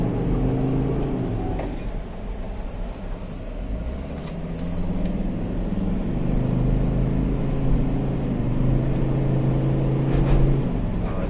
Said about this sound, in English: we'll take the Ranger out for a test drive and see.